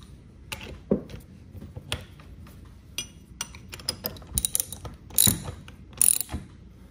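Lock bolt and nut being tightened on a 2x72 belt grinder platen wheel, a close series of ratcheting clicks and metallic clinks in uneven bursts, no talking.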